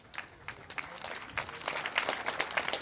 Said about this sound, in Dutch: dankjewel voor dit applaus